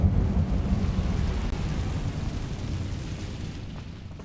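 A roaring burst of fire from the Incendio spell in the video game Hogwarts Legacy, a dense, rumbling low whoosh that holds steady for several seconds before thinning out near the end.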